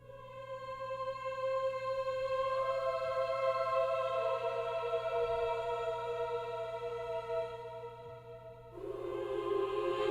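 Sustained choir tones ring out with a lush, shimmering reverb tail from two layered reverbs, layered chords holding and shifting slowly over a low steady hum.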